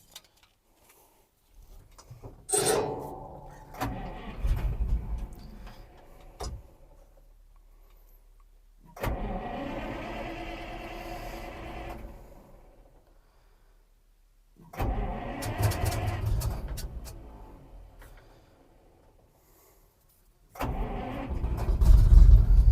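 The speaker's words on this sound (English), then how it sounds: "So let's turn on the engine and see how it changes." A Ural 375D Soviet military truck engine is cranked in several separate bursts, rough turning-over sounds with pauses of silence between attempts, then the engine catches and runs louder toward the end, no talking.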